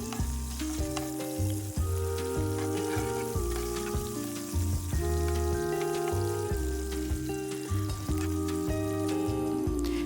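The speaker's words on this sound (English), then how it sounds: "So while everything is still frying, I'm going to season my onions with some salt and pepper." Beef patties, bacon and onions sizzle in a pan with a steady, dense crackle that continues without pause, heard under constant background music.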